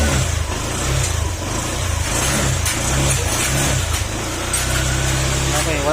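A Honda Click 125 scooter with a freshly rebuilt engine and new piston is revved in a workshop. The engine hums steadily with a few throttle rises, and someone talks over it.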